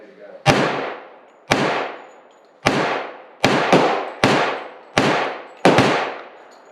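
A Tisas 1911 pistol fires seven sharp, loud shots at a range in an uneven rhythm, each crack ringing out and decaying with echo, with two shots fired in quick succession in the middle.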